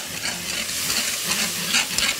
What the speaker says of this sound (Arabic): واحنا بنحط الكريمة بنقعد نحرك.